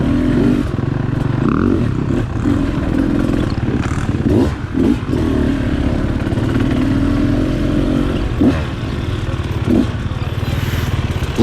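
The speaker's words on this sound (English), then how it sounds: "I start off the ride following my brother Steve on his KTM 450" A KTM 450 dirt bike engine drones steadily and loud on a woods trail ride, held close throughout with small throttle changes and some clatter from the terrain.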